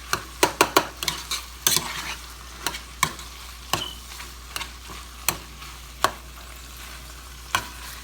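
Ground beef and sausage meat sizzle steadily in a pan while a utensil stirs them, scraping and clacking against the pan in a string of sharp, irregular knocks, close up and with no voices.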